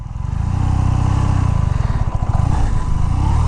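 A BMW R nineT Pure motorcycle engine, a new 2023 model, revs loudly and close up, its deep pulsing exhaust note rising and holding steady throughout with no talking.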